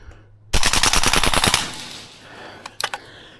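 A Tokyo Marui AK gas blowback airsoft rifle fires a rapid full-auto burst of about a dozen sharp, evenly spaced clacks, close and loud, followed by a few scattered clicks.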